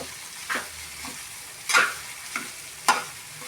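Egg rice stirred and tossed in a frying pan, a steady low sizzle with a few scraping spatula strokes and brief louder clanks, close up.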